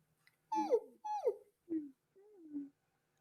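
Human voices imitating a dog-like whimper during a vocal workshop exercise, four short separate whines with falling pitch, close and quiet.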